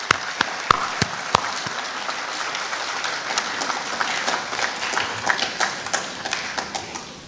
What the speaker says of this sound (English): I need a huge round of applause for every guest present here